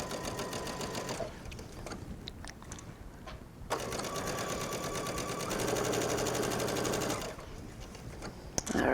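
A sewing machine stitches a narrow hem around a silk chiffon sleeve, running in steady bursts with short pauses between them. The whir is close and fairly loud, and no one speaks.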